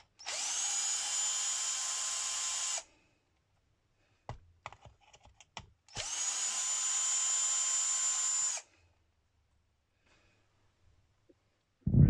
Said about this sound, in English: I only ever advise using an impact for disassembly